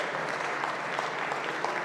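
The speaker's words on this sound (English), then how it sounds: "You can applaud now or after, it's up to you." Audience applause from a crowd at a conference opening event in Wales, a dense, steady patter of many hands clapping at a moderate distance, continuous throughout without a break.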